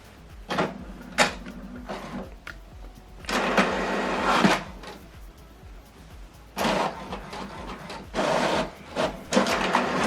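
An HP Deskjet 2820e inkjet printer whirs and clatters in bursts, its mechanism pulling and feeding pages with pauses between passes, close and moderately loud, no voices.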